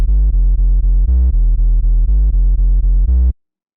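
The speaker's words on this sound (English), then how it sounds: "it just adds together sine and triangle waves, which is a really nice kind of pure blend" Synthesizer tone blending sine and triangle waves, pure and mellow, played as a rapid series of about a dozen short repeated notes at a steady rhythm, loud and alone before stopping abruptly.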